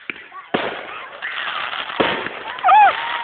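Fireworks pop with two or three sharp bangs spaced apart, followed by whistling, swooping tones and a crackling burst, while excited voices talk and exclaim over the display.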